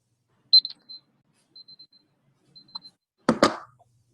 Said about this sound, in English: Timer's up, but keep going.